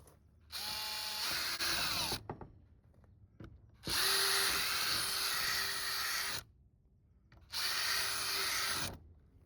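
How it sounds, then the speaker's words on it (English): A power drill whirs through resin shed panels in three sustained bursts of a few seconds each, separated by short pauses with light clicks and handling noises. "I got a drill. You can see those holes aren't drilled out."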